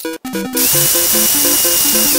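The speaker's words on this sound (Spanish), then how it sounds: "vamos a marcar la entrada de nuestra broca" An electric drill bores a pilot hole with a bit in a part of an overlock sewing machine being converted, opening with a few sharp clicks before a loud, steady high whine holds close up to the end.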